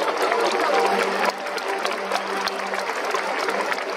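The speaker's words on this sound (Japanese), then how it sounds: "スタンドの皆様、子どもたちに大きな拍手をお願いいたします。" A baseball stadium crowd applauds the children before a Hanshin Tigers versus Yokohama DeNA game, a broad, sustained roar of clapping from the stands with a steady tone ringing through it.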